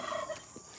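Farm turkeys give a brief burst of gobbling nearby, a quick warbling call that fades within the first half second and leaves only faint background.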